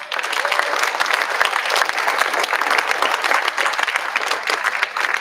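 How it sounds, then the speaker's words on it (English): An audience at the Freedom Fund Banquet 2024 applauds for the Admiral Theater, a dense, loud, sustained wash of many hands clapping with no break. "So give Admiral Theater applause, please."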